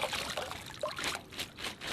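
Plastic bags washed by hand in a hot tub filled with plain water, giving close, continuous sloshing and trickling with small splashes.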